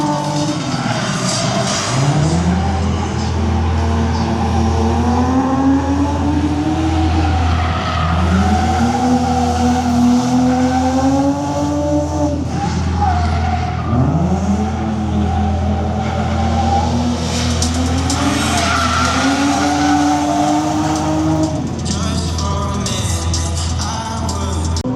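Cars skid and squeal their tires during a track event demonstration at an auto show, loud and continuous for the whole stretch, with rising and falling engine revs and long wailing tire squeals over a steady low rumble.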